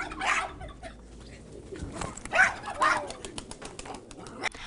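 Domestic pigeons coo in soft, rolling bursts close by, joined by other faint noises and a low murmur of voices in the background.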